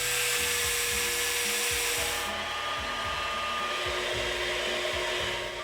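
A metal lathe turns down a steel crankshaft for a small gas engine, a steady hissing, whirring drone with a rhythmic low chugging as the cut goes on, continuous and fairly close with no talking.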